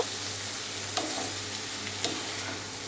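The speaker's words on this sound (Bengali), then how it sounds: "আমি এবার ভালোভাবে কিন্তু শাকটা একটু নেড়ে চেড়ে নেব" Fenugreek greens frying in a pan as they are stirred, a steady sizzle with two brief scraping strokes of the spatula, close and fairly quiet, with no talking.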